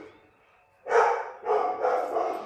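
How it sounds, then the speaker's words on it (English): Indoors, a dog lets out a close, loud run of barks, one sharp bark then three more in quick succession, after a quiet start with no talking. "we don't need to bark"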